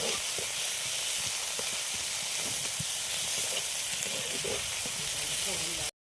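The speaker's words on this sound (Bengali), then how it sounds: "একটু লাল লাল করে ভেজে নিচ্ছি" Fish curry ingredients fry in a hot pan with a dense, continuous hissing sizzle, stirred now and then with soft scraping clicks, cutting off abruptly at the end.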